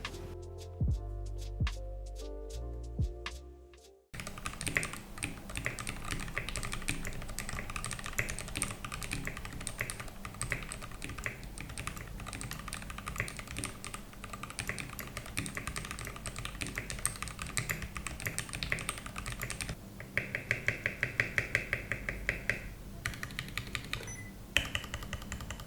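Rapid, steady typing on a modded Fantech MaxFit61 budget custom keyboard, with crisp close keystrokes in a dense continuous patter, after a few seconds of music at the start.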